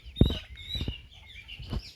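Several short clucks and squawks from two young roosters close by, uneven bursts with pauses between them, fairly quiet.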